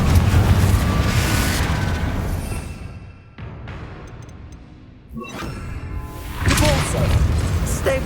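Fiery Confringo spell blasts in Hogwarts Legacy: loud booming bursts and rumbling explosions up close, fading to a lull before another heavy eruption, with a voice and combat noise mixed in.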